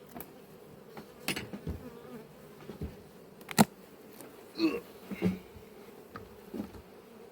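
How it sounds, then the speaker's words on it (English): Honeybees buzz inside a heavy hive box at an apiary, a low continuous hum broken by a few sharp knocks and handling bumps, with no voices. "Huge box of bees, as Ian would say."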